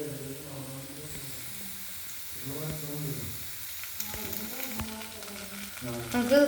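Prawns sizzle in a hot pan as they are stirred, with sauce being added, a steady frying hiss broken by scraping stirs and clinks of the utensil, close and continuous with faint background voice.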